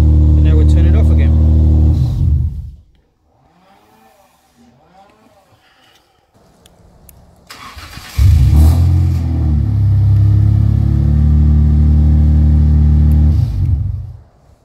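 A car engine fitted with a remote start system runs loudly and close for a couple of seconds, goes quiet, then starts again and runs steadily until the end, with a voice speaking in the gap.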